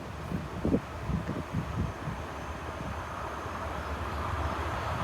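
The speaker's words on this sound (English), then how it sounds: "Train's here." A Class 69 locomotive arrives at Metheringham level crossing with sand wagons, a low steady diesel rumble at middle distance with a few rhythmic thumps early on, no talk.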